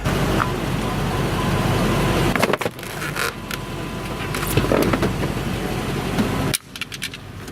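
A Land Rover Defender rolls onto and crushes a parked car, a heavy broadband roar of engine and grinding that runs steadily for several seconds, drops abruptly midway, resumes, then cuts off sharply near the end.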